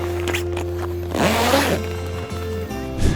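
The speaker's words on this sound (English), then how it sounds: "And then we just keep on following the zip along." A zipper is pulled along the fabric of a Southern Cross rooftop tent awning in one quick, loud, close rasping run, framed by quieter rustling and handling noises.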